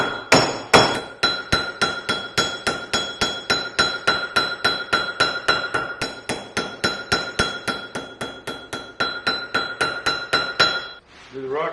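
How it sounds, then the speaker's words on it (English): A texturing hammer cold forges a knife blade with about thirty evenly spaced metallic strikes. Each blow is sharp and ringing and falls in a steady rhythm close to the listener, with no talking over it. "You don't want to strike it too hard because basically we're cold forging"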